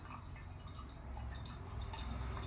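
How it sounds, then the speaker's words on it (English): Water pours steadily into a vase for roses, a continuous close splashing and trickling with no pauses. "I see all the water going in now and it's filling up."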